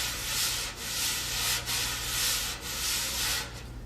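Drum brushes swept back and forth in opposite C-shaped motions across a drumhead, giving a continuous close swishing rub that swells and dips in a steady rhythm of about four strokes.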